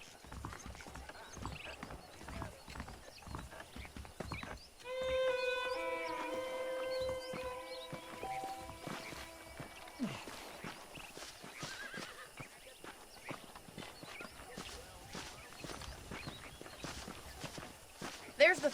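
A horse in Red Dead Redemption clip-clops along at a steady walk, close and rhythmic, with a whinny partway through and someone talking over the hoofbeats.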